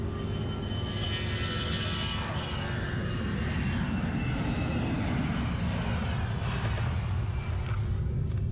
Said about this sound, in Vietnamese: Một chiếc ATR khác của Vasco vừa cất cánh.